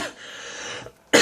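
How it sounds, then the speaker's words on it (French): A person coughing and clearing their throat while sick with a cold and a week-long cough, a short rough burst at the start, a lull, then a loud harsh cough at the end. "C'est surtout que j'ai la toux."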